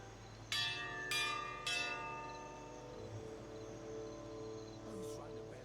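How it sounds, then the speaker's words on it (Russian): A bell tolls three times in quick succession in the video game Pillars of Eternity II: Deadfire, loud ringing strikes with long shimmering decay fading under a faint ambient background. "Кто ударил в колокол? Зачем?"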